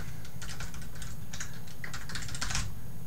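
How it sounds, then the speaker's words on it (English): Fingers type on a computer keyboard in quick, irregular bursts of key clicks, close and fairly quiet, with no talking. "You would then type in your first name"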